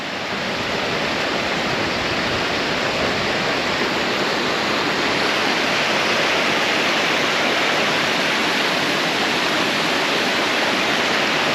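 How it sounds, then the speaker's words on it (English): A steady, dense rush of water falling over a limestone waterfall in Greece roars continuously, close and loud, with no voices over it. "This is a limestone waterfall."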